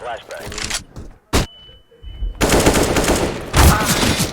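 Gunfire in the game CS:GO, with rapid bursts of shots loud and close, a brief single crack early on, then sustained dense firing through the latter half with voices talking over it.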